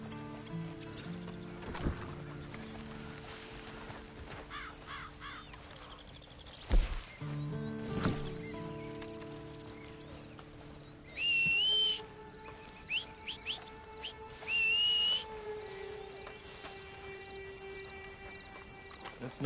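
Horse hooves clip-clop in Red Dead Redemption 2, a steady moderate trot running under game music, with a couple of whistle-like tones and brief louder knocks partway through.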